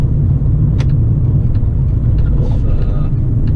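A 2001 R50 MINI car drives along, a loud steady low engine and road rumble from inside the cabin with a few faint clicks and light knocks over it.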